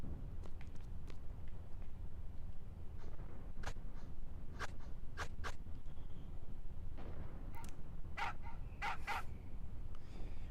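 Dog barks in the video game Final Fantasy VIII, a few short sharp barks and yips scattered across a steady low background hum, moderately loud, with no talking.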